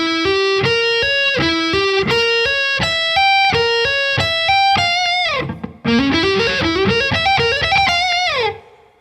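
A distorted electric guitar plays a rhythm part under a chorus, using steady downstrokes and hammer-ons in a repeating riff before a brief break and a rising run. It is loud and close, with no voice.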